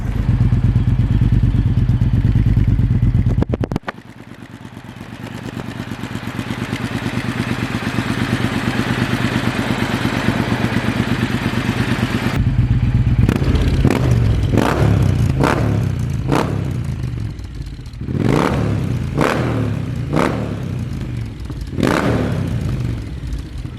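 A Triumph motorcycle fitted with a Lowell full system exhaust, idling loud and deep, dropping briefly, then a string of sharp throttle blips and revs rising and falling in close succession.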